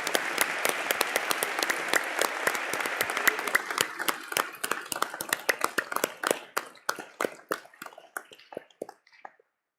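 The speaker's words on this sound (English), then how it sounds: "Maybe we can clap now because we are loving it already." Audience clapping at a memorial service after jazz piano, beginning as full, dense applause that thins out into scattered individual claps and fades to silence.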